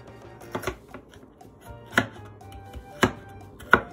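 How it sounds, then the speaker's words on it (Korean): A knife cuts small carrots into thin matchsticks on a cutting board for Korean-style carrot kimchi, with a series of crisp, uneven chops, some soft and some sharp, close up and alone. "당근을 채썰기 해줄 건데 이거는 애시당 그렇게 작게 나온 거라 체크할 수 힘들어서 일일이 잘라줘야 돼요"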